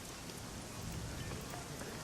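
Heavy, steady rain from the video game Shadowrun Hong Kong, a dense continuous downpour hiss with no breaks, filling the whole span evenly.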